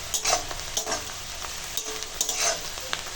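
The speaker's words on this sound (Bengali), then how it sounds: "পেঁয়াজ কাঁচা লঙ্কা ভালো করে ভেজে নেব একবারে সোনালি করে ভেজে নেব" Sliced onion and green chilli frying in hot oil, turned until golden, as a steady close sizzle with repeated scraping strokes of a spatula stirring through the pan.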